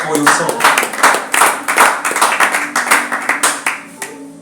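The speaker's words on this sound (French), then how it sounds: "Est-ce que vous pouvez acclamer pour vous-même d'abord?" A church congregation at a Sunday service claps together in a brisk, dense run of claps that carries on for several seconds, loud and close.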